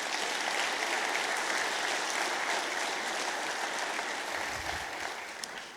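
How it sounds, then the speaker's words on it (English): A conference audience applauds the event organizers, steady full clapping from a sizable crowd that gradually thins and fades toward the end. "Let's give a round of applause for the people to put this on."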